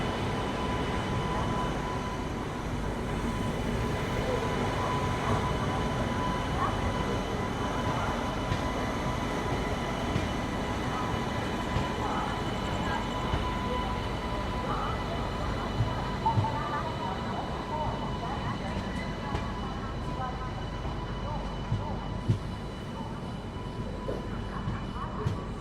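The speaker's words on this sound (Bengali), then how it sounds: "একদম কিন্তু নির্দিষ্ট সময় 9:45 ট্রেন ছেড়ে দিল কলকাতা স্টেশন থেকে গুয়াহাটির উদ্দেশ্যে" A night train with 3rd AC economy coaches pulls out of Kolkata station at 9:45 bound for Guwahati, giving a steady, continuous rumble with faint voices mixed in.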